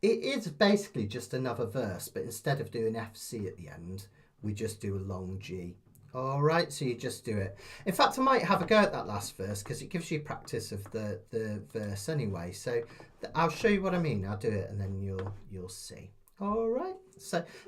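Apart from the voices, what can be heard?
No everyday noises stand out.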